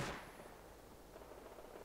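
A single gunshot in the survival video game Rust cracks sharply at the start and then trails off into a faint, noisy decay.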